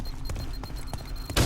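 A grenade goes off in the shooter game F.E.A.R. 3, a sudden loud, deep blast right at the end, after a stretch of steady, muffled game noise with faint rhythmic thuds.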